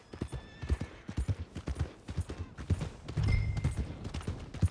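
Horse hooves clip-clop in Red Dead Redemption II, a steady rhythmic run of close, punchy hoof strikes on the ground, with a brief louder rumble partway through.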